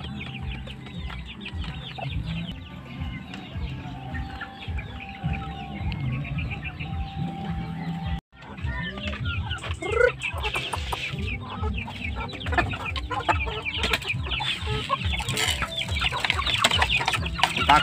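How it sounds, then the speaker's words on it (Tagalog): Chickens cluck continuously in a coop on a farm, a dense close-range chorus of overlapping clucks with a brief dropout midway, no talking heard. "Takaw ng manok ito ah."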